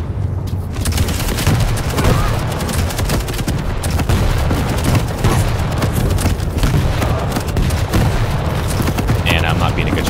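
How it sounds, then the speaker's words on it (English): Rocket launcher fire and explosions in the arena shooter Quake Champions: loud, continuous blasts and gunfire layered with booming impacts, while a player talks over the action. "Rocket launcher."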